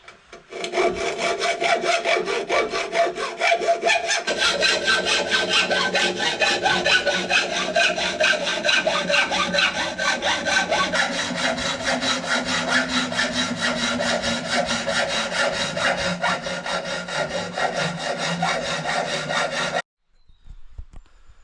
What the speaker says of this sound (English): So here we go, a new hacksaw blade.